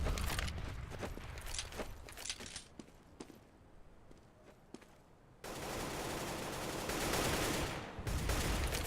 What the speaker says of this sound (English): So I'm hearing plenty of Galil fire by the sounds of it, an AK fire